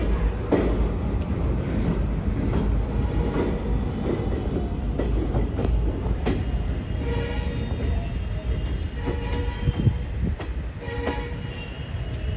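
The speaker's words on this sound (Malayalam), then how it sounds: "തിൻസുക്കിയ ജംഗ്ഷൻ ഇതാ ട്രെയിൻ എടുത്തിരിക്കുകയാണ്" A train pulls out of Tinsukia Junction in Assam with a dense, steady rumble and rhythmic clatter of wheels on rails, heard loud and close throughout.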